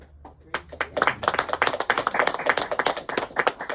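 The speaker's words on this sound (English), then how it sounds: "So maybe another round of applause for that." Audience applause at a poetry reading launch, a dense patter of many hands clapping that swells after a quiet start and carries on steadily to the end, with a faint murmur of voices.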